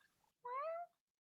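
A house cat gives one clear, drawn-out meow, close and quiet, in an otherwise hushed room.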